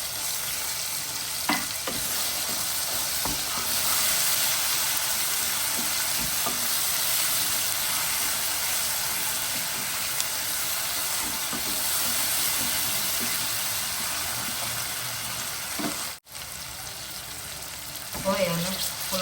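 Ginger, garlic and chili paste sizzles steadily in a hot pan, a continuous bright frying hiss with occasional stirring scrapes and a brief dip near the end.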